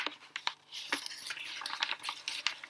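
Someone opens a paper envelope by hand at close range, making crisp crackles, crinkles and small tearing rustles in irregular bursts.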